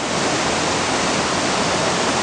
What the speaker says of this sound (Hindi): और देखिए किस तरह से गिर रहा है झरना।